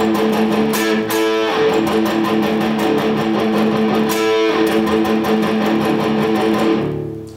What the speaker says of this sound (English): we're gonna be doing the palm muting on the A.